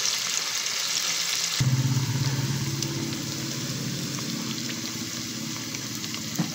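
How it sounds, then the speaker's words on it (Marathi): Paneer pieces drop into hot oil in a pressure cooker pot, starting a steady, close sizzle of frying that continues evenly throughout with no voices. "आता आपण हे पनीर या तेलामध्ये सोडून घेऊया."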